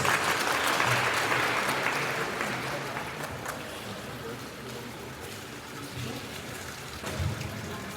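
Applause from a church congregation after a baptism, a dense burst of clapping that starts loud and slowly fades, continuing steadily to the end with no talking.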